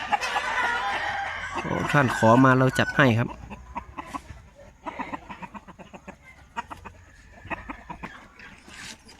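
A rooster clucks and crows nearby in short bursts while someone talks over and between the calls.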